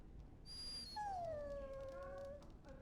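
A dog in the fantasy role-playing game Dragon Age: Origins lets out a long, high, drawn-out whimpering whine that falls slightly in pitch, close and clear over quiet background.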